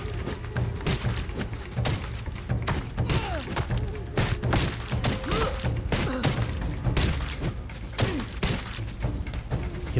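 Repeated heavy thuds and crunching smashes as a campfire is broken apart in the survival game Soulmask, an irregular run of loud impacts with brief shattering cracks, closely spaced over a steady background.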